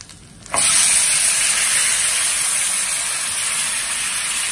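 Finely chopped tomatoes for a sweet and sour Bengali tomato chutney drop into a hot pan and burst into a loud, close, steady sizzle that hisses on without pause.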